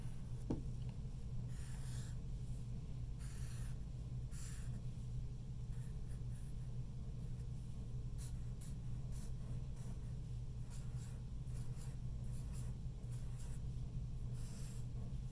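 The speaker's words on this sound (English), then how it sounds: "now I'm going to trace that with my marker again" A marker traces over pencil lines on paper in close, quiet, repeated scratchy strokes, with short pauses between passes over a faint steady background hum.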